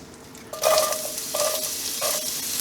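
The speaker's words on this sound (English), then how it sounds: "Butter's melted, just beginning to turn nutty. Now let's go ahead and add the onions." Onions hit melted butter browning in a pot and sizzle up loudly, with several bursts of hissing as more are added and stirred, between quieter stretches of low frying.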